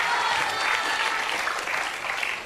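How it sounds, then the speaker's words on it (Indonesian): An audience at an Islamic talk on Quran memorization breaks into brief, lively applause, a dense burst of clapping that fills the short moment. "Tepuk tangan dong, luar biasa sekali."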